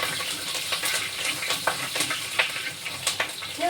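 Crushed garlic and green chillies sauté in a pan for a potato curry, a close continuous sizzle broken by repeated spoon-stirring clinks and scrapes, with no voices.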